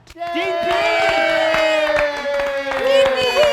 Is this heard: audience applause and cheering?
yes